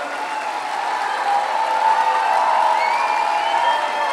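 Crowd cheering and applause greeting a speaker at the Barrymore Theater, a sustained wash of many voices and clapping that swells slightly toward the middle and holds steady, heard from within the packed hall.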